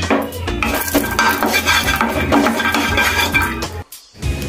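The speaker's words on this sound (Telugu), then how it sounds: "ఒలిచిపెట్టిన వెల్లుల్లి రెబ్బను కూడా కొంచెం మనము డ్రైగా చేసేసుకుందాము" Peeled garlic cloves dry roasting in a pan, with busy clinking and scraping of a spoon against metal as they are stirred, loud and close, with a faint sizzle beneath and a short pause near the end.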